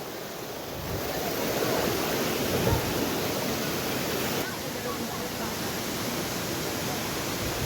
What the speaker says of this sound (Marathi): धबधब्याजवळ जाण्याचा प्रयत्न आहे